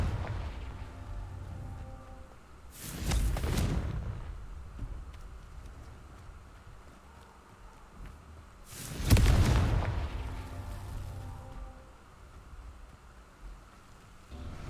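Confringo spell explosions in the Hogwarts Legacy video game, two loud booming blasts several seconds apart, each swelling and fading over a low ambient background.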